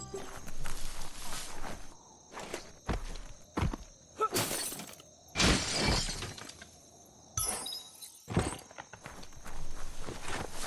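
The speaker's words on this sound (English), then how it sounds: "You shouldn't worry about smashing up the box." Boxes are smashed in Biomutant, a series of loud, sharp crashing and splintering bursts spread across the stretch, separated by quieter gaps with scattered clattering steps.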